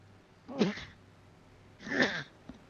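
Two short sneeze-like bursts about a second and a half apart, fairly close and moderately loud over quiet background hiss.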